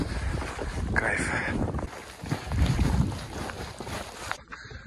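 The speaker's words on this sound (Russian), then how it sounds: "но начался ветер" Wind gusting across an exposed mountain slope in the Ural Mountains, a steady broadband roar that swells and surges near the microphone, with brief rustling bursts and a sudden drop near the end.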